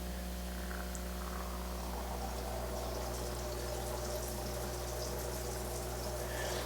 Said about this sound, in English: As you can see, less than half of the surface is actually producing bubbles.